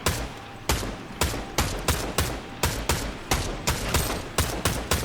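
Bursts of rapid gunfire from shooting in the video game Fortnite, about a dozen sharp volleys repeating at a steady pace over a few seconds, loud and close with no talking.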